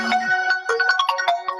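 A phone ringtone plays a bright, repeating electronic melody of quick tonal notes, fairly loud and close, with no talking.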